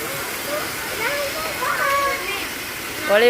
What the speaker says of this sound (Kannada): ಅರ್ನಾಳಿಗೆ ನೀರು ಹೆಂಗೆ ಬೀಳ್ತಾವ